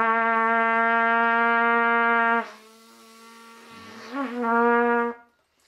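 A steady buzzing tone from lips vibrating in a trumpet mouthpiece, heard alone and fairly loud, holds for about two seconds, drops away, then returns briefly near the end.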